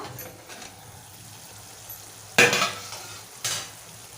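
Prawns cooking in oil in a pan simmer with a soft, quiet sizzle, then two sharp scraping stirs of a spatula stand out clearly, with no talking.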